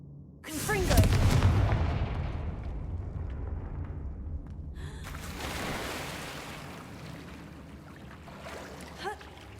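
A Confringo fire spell blasts in the Hogwarts Legacy video game, a sudden loud boom near the start followed by a long rumbling, crackling decay, with a smaller pop near the end.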